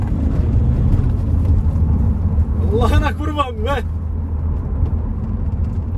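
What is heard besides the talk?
Volkswagen Caddy car driving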